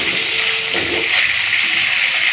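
Potato and cauliflower pieces sizzle in a pan of hot oil, a loud, dense, continuous hiss that holds steady throughout without any speech.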